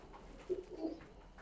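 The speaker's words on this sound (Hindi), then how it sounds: "ये है दुबाज कबूतर मेन अंकल के" A Dubaj breed pigeon gives a brief, soft coo, two low murmuring notes close by in a quiet space.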